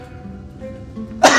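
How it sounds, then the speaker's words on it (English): One sharp, loud sneeze bursts out at the very end, following about a second of quiet with faint low hum. "Sneeze."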